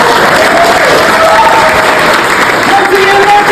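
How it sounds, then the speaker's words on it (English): Audience at a class showcase event gives loud, dense applause for the class, a close, continuous roar of clapping with some cheering mixed in. "Great applause for my class."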